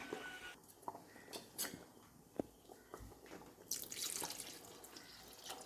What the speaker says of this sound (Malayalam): ഇതിലോട്ടിനി രണ്ടാം പാൽ ഒഴിച്ചു കൊടുക്കാം തേങ്ങയുടെ